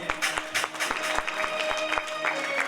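An audience at a Bhagavat Katha religious gathering at a cow shelter claps in a steady rhythmic beat, each clap sharp and evenly spaced, with crowd noise and a voice running underneath.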